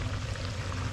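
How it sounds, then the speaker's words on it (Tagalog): Boiled water is poured as broth into a pot of chicken curry with okra, making a steady close splashing rush through the whole short moment. "Lalagyan na natin ng sabaw at yung isasabaw natin ay pinakulok ko ng tubig"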